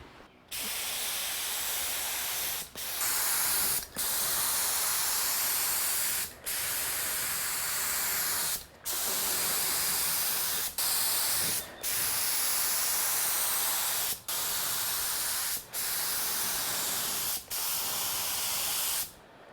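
Spray gun applying a second coat of paint to a car during a budget strip and respray, close and loud as a steady hiss in repeated long bursts with brief pauses between passes, no talking.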